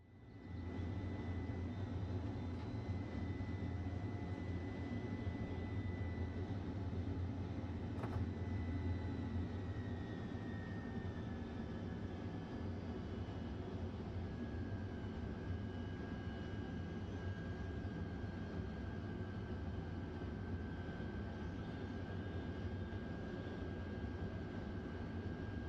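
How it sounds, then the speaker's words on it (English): Agricultural aircraft in Microsoft Flight Simulator 2024 with fuel shut off, its rotor still spinning: a steady droning engine-and-prop hum with a faint whine, continuous and even for the whole stretch, no voices. "Fuel's off. That's off. That dang rotor is still spinning."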